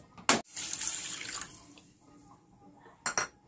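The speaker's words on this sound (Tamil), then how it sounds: "1 பவுலுக்கு 2 பவுல் தண்ணி ஊற்றிருக்கேன்." Water is poured into a pan while making fruit kesari, a splashing, rushing pour lasting about a second, bracketed by sharp clanks of utensils against the pan at start and end, fairly close.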